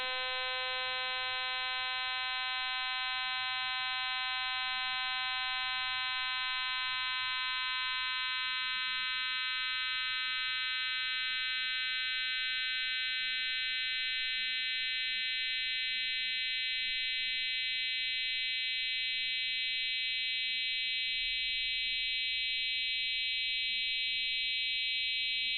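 A synthesized harmonic tone at a 256 Hz pitch with its fundamental removed sounds as a thin, steady buzzy stack of upper harmonics. It holds unchanged and alone for about twenty-five seconds.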